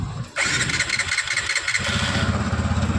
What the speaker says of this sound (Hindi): बाइक स्टार्ट है।